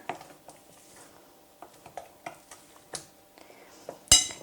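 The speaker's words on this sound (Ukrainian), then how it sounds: "Знов все перемішую." A spoon scrapes and clinks against a bowl while raisin cake batter is mixed, giving a run of irregular light taps with a sharper clink near the end.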